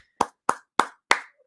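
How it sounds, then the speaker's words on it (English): Four sharp hand claps ring out close and alone, evenly spaced about a third of a second apart. "give you a round of applause there"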